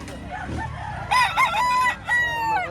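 A rooster crows loudly nearby at a chicken market in Lipa, Batangas, a drawn-out cock-a-doodle-doo in two strained bursts, after some quieter clucking.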